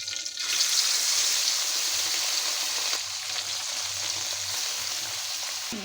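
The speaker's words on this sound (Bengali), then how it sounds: "সবগুলো মাছ আমি একসাথে দিয়ে দিচ্ছি একদম মুসমুসে করে ভেজে নিব" Small chanda fish frying together in hot oil make a loud, steady hissing sizzle that runs throughout, close up, with a faint low background hum.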